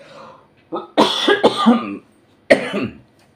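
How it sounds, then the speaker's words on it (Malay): A man with a sore, irritated throat gives a cluster of several harsh, close coughs, a brief pause, then one more cough, loud and alone without talk. "Sekarang ni tekak agak tak selesa sebab batuk"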